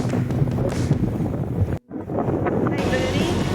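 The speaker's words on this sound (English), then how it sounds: "We're just beating into this wind" Wind roars across the microphone of a sailboat beating upwind on the Indian Ocean between the Seychelles and Tanzania, loud and gusty with a short cutout midway and a voice briefly heard.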